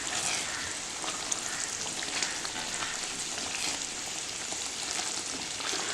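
Paneer butter masala curry sizzles steadily in a pan over a low flame, a continuous even crackling hiss with no breaks and no voices.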